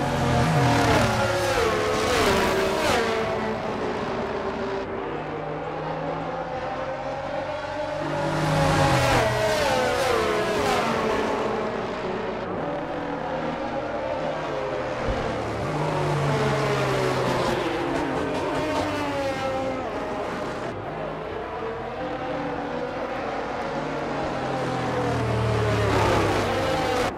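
Formula 1 cars in a racing video game run behind a safety car, their engines droning and revving in long, continuous waves that rise and fall, with occasional tire squeal.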